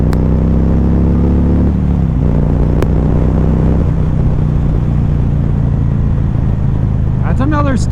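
A motorcycle ridden on a road in Mexico gives a loud, continuous engine drone that climbs and drops as the throttle opens, with a sharp rising whine near the end.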